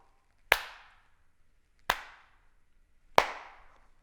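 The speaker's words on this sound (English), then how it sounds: "Those are quality claps right there." Three single hand claps, sharp and close, spaced evenly about a second and a half apart, each ringing briefly in a quiet room.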